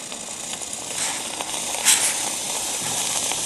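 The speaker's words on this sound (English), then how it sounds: "And now we can push the steam valve" A steam valve releases a steady, loud hiss that runs unbroken throughout, with a slight swell near the middle.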